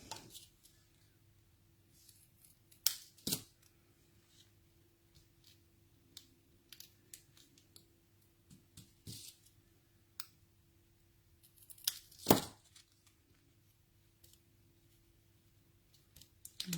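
Scissors trimming a card base, a few faint sparse snips and clicks scattered across a quiet background over a low steady hum.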